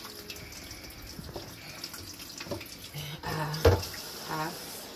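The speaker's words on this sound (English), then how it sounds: "just wash my seasoning off the spoon and put it on it there" Tap water runs briefly to rinse seasoning off a cooking spoon in a kitchen sink while preparing palm butter soup, a short splashing burst amid faint background clatter.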